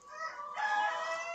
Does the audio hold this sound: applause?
no